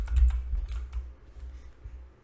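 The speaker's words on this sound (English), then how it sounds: "Then I'll just type in my username" Fingers tapping out a username on a computer keyboard, a quick close burst of clicking keystrokes that thins into a few scattered taps.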